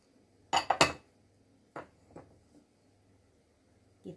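A spoon stirs pizza dough mixture with flour and salt in a bowl, giving a few sparse, light clinks against the bowl between near silence, and no one talks.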